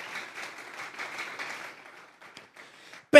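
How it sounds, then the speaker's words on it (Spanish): A church congregation claps for about two seconds, a soft scattered applause that quickly thins to a few isolated claps before a sudden loud burst at the very end. "Vamos a darle un fuerte aplauso pues al Señor esta tarde."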